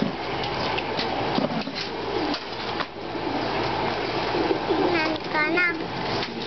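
Soft pigeon coos murmur close by in a pigeon loft beneath people talking, with occasional chirpy calls and some background clatter.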